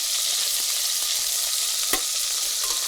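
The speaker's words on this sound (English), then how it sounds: "I'm going to brown it on all sides" Chicken pieces browning in a pan for coq au vin, a loud dense sizzle filling the whole stretch with a faint utensil tap partway through.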